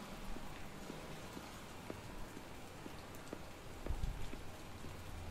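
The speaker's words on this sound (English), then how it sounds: "It's raining right now." Rain falls steadily in a Batman video game, a constant close hiss with scattered soft drop taps and a slightly heavier gust near the end, heard alone.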